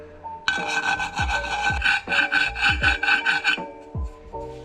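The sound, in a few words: file smoothing screw marks on a go-kart axle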